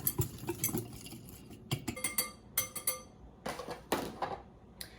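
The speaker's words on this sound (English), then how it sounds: "Now we're just gonna whisk it all together, and it's gonna create this paste, this brown, smoky paste." Wire whisk clinking and scraping against a bowl while mixing a brown, smoky paste for vegan tofu tacos, a quick irregular patter of metallic taps up close with no talk.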